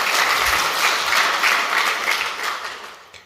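Audience applause at a tech presentation on working with the Microsoft Graph APIs: steady, dense clapping from a sizable crowd that holds for about three seconds and then tapers off, with no talking over it.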